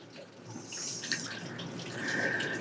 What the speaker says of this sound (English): So as you take out the bolts, the water pump will start to leak. You'll lose a good majority of your coolant